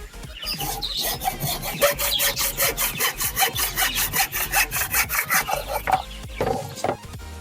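Hand saw cutting through wood, close rhythmic back-and-forth rasping strokes in an even quick tempo for several seconds before slowing and stopping, with no talking.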